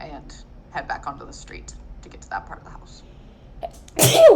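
A single sharp sneeze bursts out near the end, loud and close, after a stretch of casual conversation among people gathered for a tabletop game.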